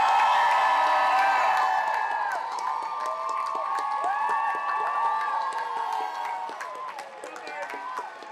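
A large convention crowd at a Comic Con panel cheers, whoops and applauds loudly and continuously, with high shouts and screams layered over steady clapping that tapers slightly toward the end.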